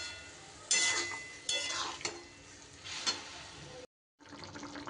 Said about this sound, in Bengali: সুন্দর করে একটু নাড়িয়ে দেব।